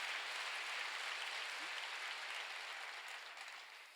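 Church congregation applauding together in worship, a steady dense wash of clapping throughout that tapers slightly toward the end, with no talk over it.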